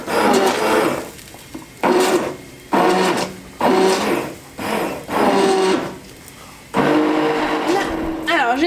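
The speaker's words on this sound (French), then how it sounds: "je vais mixer la sauce." An immersion blender mixes a sauce for a roast in a home kitchen, whirring in about six loud bursts separated by short pauses, with a person talking between and over the pulses.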